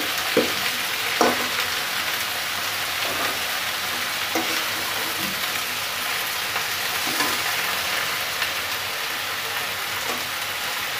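Sliced onion fries in a pan with a steady, rain-like crackling sizzle, nearby and even, punctuated by occasional light spatula taps and stirs.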